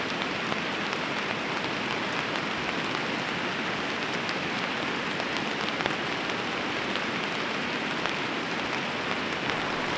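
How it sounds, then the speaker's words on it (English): Heavy rain pours steadily beside a rushing river at a hot-tent campsite, a dense, unbroken wash of drops and water noise holding loud and even throughout with no one speaking. "the rain started picking up quite a lot. It's getting really heavy now"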